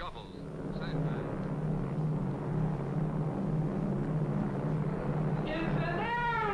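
Airplanes arrive for an airlift in a 1947 US Air Force film, giving a steady, low engine drone that holds throughout at moderate level, with higher whistling tones near the end.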